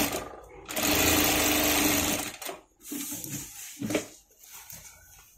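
A sewing machine stitching the back part of a maggam blouse, a close whirring run of rapid stitches lasting over a second, followed by shorter, quieter bursts.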